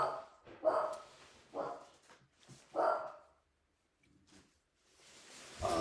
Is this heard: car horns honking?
no